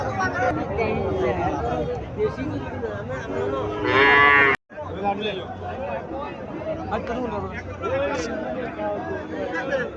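A Haryana-breed dairy cow lets out a long, loud moo partway through while people chatter and talk nearby throughout.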